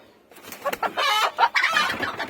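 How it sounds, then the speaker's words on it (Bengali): A hen over four years old clucks close by, giving a quick run of loud, choppy clucks and squawks that start after a brief quiet moment. "আমার পাশে একটা 4 বছর প্লাস মুরগি আছে"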